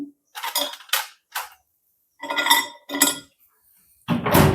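Several short clinks and clatters of dry snacks such as papad, sandige and potato chips being set down inside a microwave oven, separated by brief silences, ending in a louder rattle.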